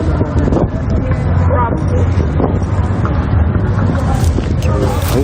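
Strong wind buffets the microphone outdoors in a steady, loud rumble with rising gusts, and faint voices are mixed in underneath.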